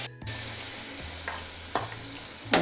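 Sprouted legumes stirred into a turmeric-seasoned vegetable stir-fry in a pan, with a steady low sizzle and a few sharp scraping clinks of the spoon against the pan, close and with no talking.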